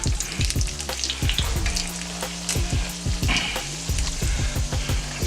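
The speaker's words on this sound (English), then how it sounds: "Get them frying up." Egg rolls fry in hot oil with a dense, steady sizzle, crackling and popping up close, while occasional scraping and stirring clatter cuts through without any talk.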